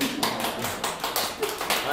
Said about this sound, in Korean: 이럴 때 박수 한번 쳐야 될 것 같아요